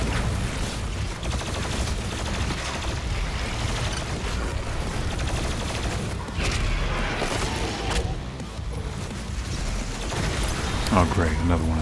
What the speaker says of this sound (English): Try my plasma gun now.